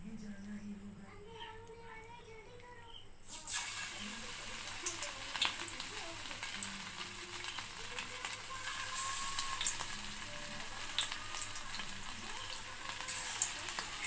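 Chicken pakora drops into hot oil in a kadai. After a quiet start with faint background sounds, a sudden sizzle bursts out and then continues steadily and close, with crackles and pops.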